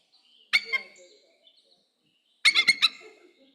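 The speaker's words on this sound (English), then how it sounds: "So bald eagles have sort of this giggling laugh thing." Bald eagle giving its giggling, gull-like laughing call in spring, two separate bursts of rapid high chattering notes, the second a tight run of three or four pulses, fairly close and clear against a quiet background.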